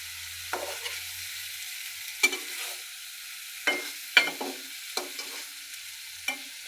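Fish sautéed in a spice paste in a pan, a low sizzle broken by several sharp scraping stirs at irregular intervals, close and with no talk.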